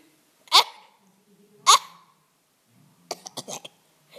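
A voice imitates a cat coughing up a hairball: two sharp, hacking bursts about a second apart, then a quick cluster of short choking retches, close and loud against quiet.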